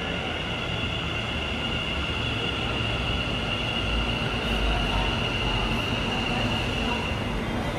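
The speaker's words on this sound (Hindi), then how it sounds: "Metro has arrive." A metro train arriving at a station in Ahmedabad, a continuous loud rumble of wheels and rail noise with a steady high whine, filling the whole stretch without a break.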